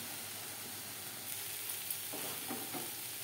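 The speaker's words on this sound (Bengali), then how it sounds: "কাঁচা গন্ধ যাওয়া পর্যন্ত নাড়াচাড়া করে দেবো" Spiced vegetables frying in a pan for khichuri made with dalia, a steady soft sizzle running throughout with a few brief scraping stirs near the end, close and fairly quiet.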